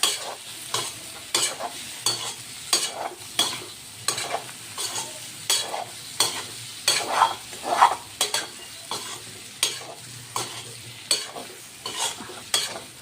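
A spoon steadily stirs and turns potatoes coated in gram flour in a sizzling pan, giving a rhythmic series of scraping knocks over a constant frying hiss, close and alone.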